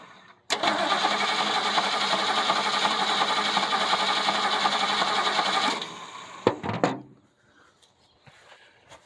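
A 1975 Ford Granada, long neglected, cranks on its starter in a loud, steady whir for about five seconds, then stops; a couple of short clunks follow before near silence.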